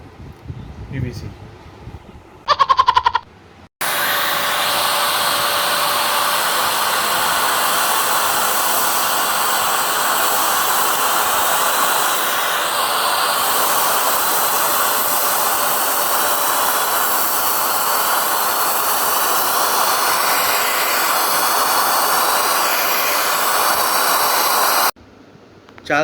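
An OSMON wet and dry vacuum cleaner with blower sucks up rice, giving a steady, loud broadband whoosh of airflow that runs for over twenty seconds after a brief clatter at start-up and then cuts off.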